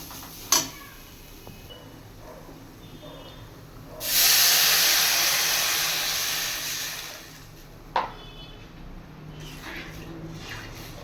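Water poured into a hot pan of lentils fried with turmeric, bursting into a loud steaming hiss that fades slowly over a few seconds, framed by a couple of sharp clanks of utensils, with no talking.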